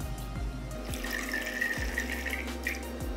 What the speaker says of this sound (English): So I'm gonna weigh out 250 grams of water.